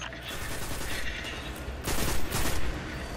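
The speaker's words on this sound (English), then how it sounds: "that thing was a big ass explosion." Loud bursts of explosive noise and gunfire from a Destiny 2 firefight, with a sustained roar and two heavier blasts near the end, no voices.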